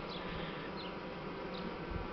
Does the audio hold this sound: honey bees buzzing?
yes